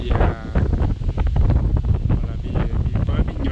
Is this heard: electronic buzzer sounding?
no